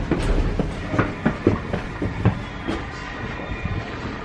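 A train on the Uetliberg line rumbles and clatters at its terminal station near Zurich, with steady close rolling noise and irregular wheel clicks and knocks, and no voices heard.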